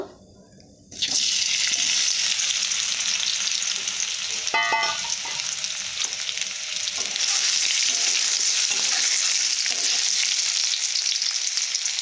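Pre-fried potatoes tip into a pan of hot oil with bay leaves, and after a quiet moment a loud, sustained close sizzle takes over, with a short clatter of stirring partway through.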